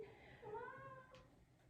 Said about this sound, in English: My cat Hef wants to say hi as well